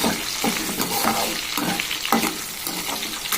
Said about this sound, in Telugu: కట్ చేసి ఉంచుకున్న ఉల్లిపాయలు బాగా దోరగా వేగాలి